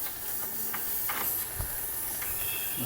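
A rusted old bolt on an antique horse-drawn road grader, heated by a Mini-Ductor induction heater, gives off a steady, faint hiss with soft crackles and pops scattered through it, and no voices.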